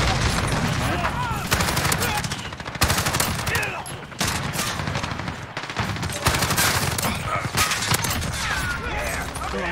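Rapid bursts of Auger gunfire from a video game weapon, stripped of attachments, crackle loudly and almost continuously with brief pauses, close and dense throughout.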